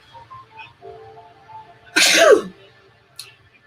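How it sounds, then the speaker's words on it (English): A single sharp, loud sneeze bursts out close by after a quiet moment, followed by a faint short exhale. "I was trying not to sneeze, but it's coming again"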